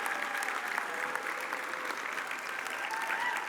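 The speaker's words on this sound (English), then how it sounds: "Yes, they really deserve this great round of applause." A banquet audience at an awards gala gives a sustained round of applause for the hotel servers and staff, with dense, even clapping and faint voices mixed in throughout.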